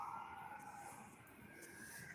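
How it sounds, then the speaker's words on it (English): A siren wails faintly in the distance, its tone slowly rising and falling under a low background rumble. "I already come outside and hear the damn sirens."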